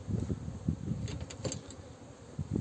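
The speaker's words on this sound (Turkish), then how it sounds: "Bu bu senenin ilk oğlu açacağım arı." A steady, low droning buzz of a honeybee swarm fills the air, with pulsing swells as bees fly close to the microphone.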